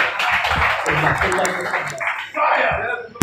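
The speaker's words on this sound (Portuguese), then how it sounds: "Aplausos!" Applause from a crowd at a Portuguese-language freestyle rap battle event, a dense steady wash of clapping and cheering under overlapping voices for a few seconds.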